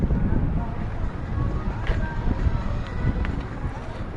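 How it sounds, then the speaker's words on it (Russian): Strong wind blows on a beach at a Sharm El Sheikh hotel, a heavy, constant rumble buffeting the microphone with gusty swells throughout. "Ветер."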